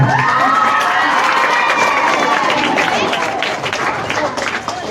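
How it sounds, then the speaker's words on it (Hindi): A large crowd at a school farewell ceremony cheers and applauds loudly and continuously, with shouts rising over the clapping, fading slightly toward the end. "जोरदार तालियां।"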